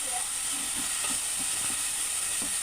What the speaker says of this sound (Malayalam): സവാള ഉപ്പിട്ടിട്ട് നന്നായിട്ട് വഴറ്റി കൊടുക്കാം